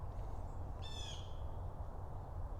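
A single brief harmonic bird call rings out faintly outdoors, isolated against a constant low background hum, with no talking.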